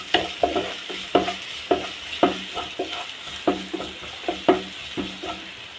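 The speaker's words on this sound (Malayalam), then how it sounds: "കറിവേപ്പ് ഇട്ടിട്ട് തന്നെ ഇനി ഇഞ്ചിയാണ് ഇടാൻ പോകുന്നത്." Ginger and curry leaves sizzling in hot oil in a pan, with a spoon scraping and stirring in a steady rhythm of repeated strokes over a continuous fry hiss, close and clear with no talking.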